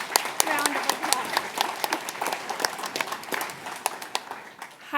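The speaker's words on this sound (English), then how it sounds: "She deserves a huge round of applause." Audience applauding an event organiser at an entrepreneurship bootcamp, dense close clapping with sharp individual claps standing out, sustained at a steady level before thinning at the end.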